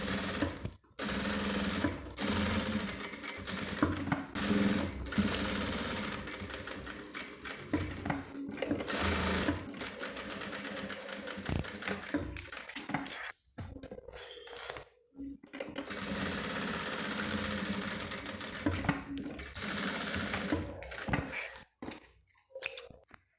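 A sewing machine stitches a bag lining in long whirring runs broken by stops, with some light clattering handling noises in between.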